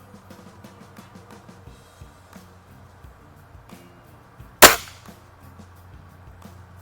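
One sharp, loud crack from a spring-piston air rifle, a Walther Force 1000 or a Diana 48/52 firing JSB pellets, stands out over quiet background clicks and shuffling.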